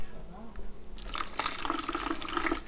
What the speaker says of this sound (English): They're spilling it over the sink